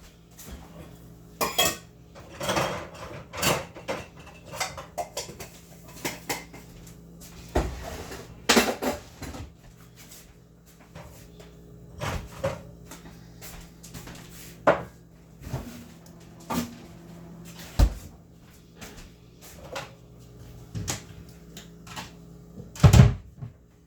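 Plates, cutlery and cupboard doors are handled in a home kitchen, with scattered clinks, clatters and knocks at irregular intervals, some sharp and loud, separated by quiet gaps.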